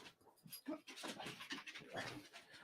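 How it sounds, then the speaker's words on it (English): A dog pants up close in quick, rhythmic breaths, with a brief whine near the start and faint background noise. "All right, you guys want to see the dog?"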